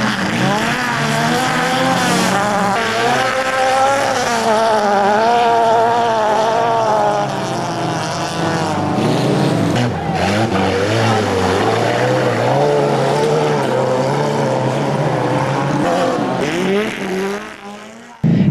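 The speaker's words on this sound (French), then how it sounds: "Ça consiste à tourner soit en voiture de tourisme, soit en voiture spécialement conçue pour l'autocross" Autocross racing cars, touring cars and purpose-built protos, roar through laps at a speedway, a loud continuous engine drone with revving pitch swings and tire noise that carries through and fades at the end.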